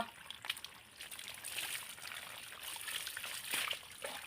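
Water trickles and splashes steadily while a dog's face and neck are rinsed during a bath, a soft continuous stream with small irregular splashes at close range.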